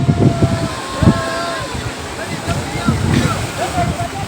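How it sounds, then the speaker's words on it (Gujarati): Sea waves washing onto the shore in the wind, a continuous rushing surge with gusty wind noise buffeting the microphone, loud and close, while people talk over it. "આમ જો મોજા જો"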